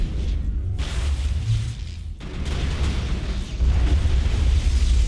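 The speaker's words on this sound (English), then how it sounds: "Oh god, so many explosions, what the heck." Explosions in the Mass Effect video game go off in a rapid, chaotic series of deep booms and bursts, overlapping into a continuous rumbling barrage with a couple of short lulls between blasts.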